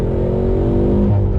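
A 2020 Hyundai Veloster N without the Performance Package revs hard as it accelerates up through the gears, a steady loud engine drone heard from inside the car with no talk over it.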